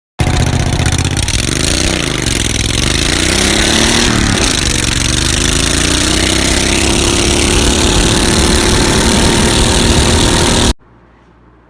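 A refurbished racing lawnmower engine, capable of about 40 mph, runs loud and steady for ten seconds, its pitch dipping and rising with throttle before settling into a sustained drone, then cutting off abruptly.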